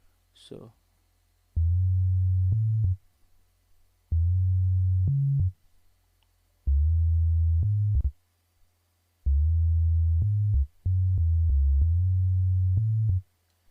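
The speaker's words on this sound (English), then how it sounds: "This bass is from Nessus and it's a sine bass." A pure, low sine-wave synth bass from Nessus plays a short repeating line of held notes separated by brief gaps, smooth and clean with no other instruments.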